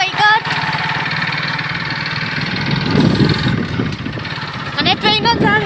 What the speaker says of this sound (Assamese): আৰু এতিয়া মানে মই যাই আছোঁ বাইকত